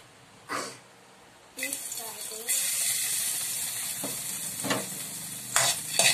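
Minced garlic hits a hot pan and starts to sizzle steadily while being stirred, with a brief clatter first and a few scraping stirs in the ongoing hiss, during instant noodle ramen cooking.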